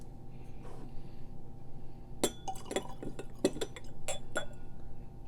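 Three scotch whiskies, Laphroaig 10, Ardbeg 10 and Caol Ila 12, being poured together and mixed in a glass, a series of sharp glass clinks and taps against a low, quiet room background.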